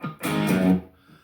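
Distorted electric guitar playing a chord riff: a short strummed hit, then a brief muted rest and a sustained ringing chord that fades, heard close and alone.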